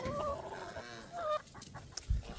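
Hens cluck in short, uneven bursts, fairly close, in small-town Alabama, with a scrape or thump near the end; no one speaks.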